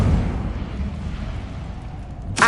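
An Incendio fire spell cast in Hogwarts Legacy gives a low, rumbling whoosh of flame that swells and fades, followed by a sudden bright burst at the end.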